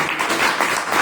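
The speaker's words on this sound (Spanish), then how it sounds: "Artemio, un aplauso." Audience applause at a conversation event in a cultural bar, a steady burst of clapping from a small crowd lasting about a second, fairly close and continuous.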